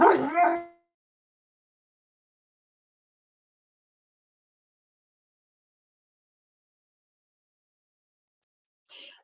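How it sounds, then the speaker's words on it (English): A dog gives a short burst of barking and howling right at the start, then everything goes silent, with only a faint brief sound near the end. "One second again as I try to shush my sweet, sweet dog."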